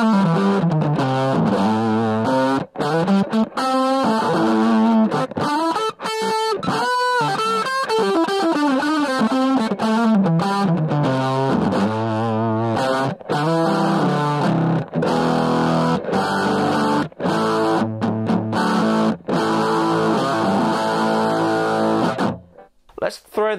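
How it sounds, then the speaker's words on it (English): An electric guitar played through a Thorpy Veteran overdrive pedal with delay and reverb off, a loud, distorted stream of picked notes and chords with short pauses, ending with a brief break near the end. "This is the Thorpey veteran. Let's try it without all the delay and stuff first."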